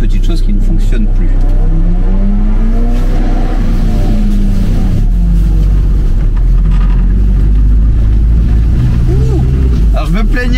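An old car engine starts without the choke and runs, sputtering and hopping at first before settling into a steady, loud idle close by, with a continuous low rumble and a person talking over it.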